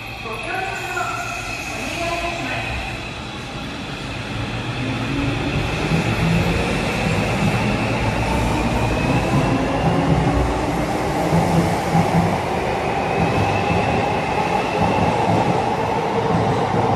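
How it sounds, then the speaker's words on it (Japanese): A Keio 8000 series eight-car express train pulls out of Chofu station, its electric motors rising in a steady whine over rumbling wheels and rail clatter that build in loudness and stay close throughout. "そして列車はね、ドアを閉めね、調布駅を発車いたします。"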